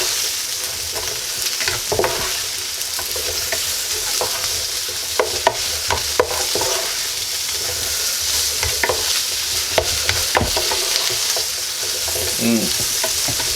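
Sausage and potatoes fry with a constant loud sizzle in a pan while being stirred, scraping clicks and clatters of the utensil scattered throughout, close up with no speech.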